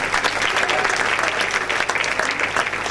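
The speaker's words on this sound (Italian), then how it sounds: "Applausi, prego." Audience applause at a volunteer festival's closing show, a loud, dense and continuous burst of clapping from a crowd, close and steady throughout.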